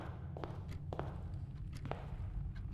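Footsteps in Blue Prince sound as soft, evenly paced thuds, about two steps per second, quiet and close, over a low ambient hum with no talking.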